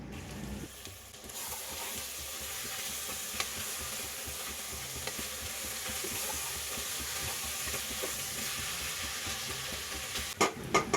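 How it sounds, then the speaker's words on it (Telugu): Cucumber pieces and drumsticks are stirred into a curry masala frying in a pan, giving a steady broadband sizzle with scraping stirs and a few sharp clatters near the end, no voices. "కట్ చేసి పెట్టుకున్న దోసకాయలున్న ములక్కాయలు కూడా వేసి కలుపుకోవాలి"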